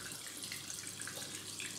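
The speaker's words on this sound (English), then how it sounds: "Gonna turn this tap on and wait till that goes." Water runs from a tap in a steady, faint hiss with light splashing, continuous and unbroken for the whole short stretch.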